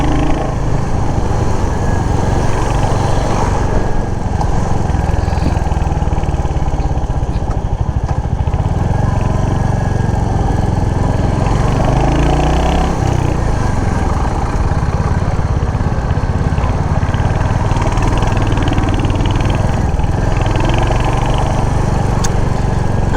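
Royal Enfield Hunter 350 motorcycle engine pulling steadily while riding around Kathmandu, a loud continuous throb with shifting revs across the whole stretch and no talk.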